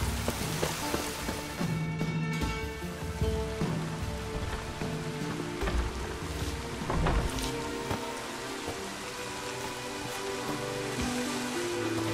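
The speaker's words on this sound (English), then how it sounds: "Rain was coming." Rain falls in the video game The Witcher 3, a constant dense patter with scattered louder drops and low rumbles underneath.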